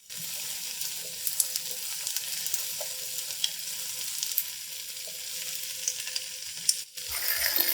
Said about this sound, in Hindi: इनको हम प्याज के अंदर हल्का सा फ्राई करेंगे